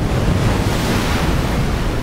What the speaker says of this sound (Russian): Плескание воды.